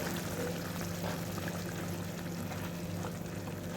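Water being added to a simmering Sankara fish curry in a pan gives a steady, soft liquid wash and bubbling hiss that continues evenly throughout at low level, with no talking.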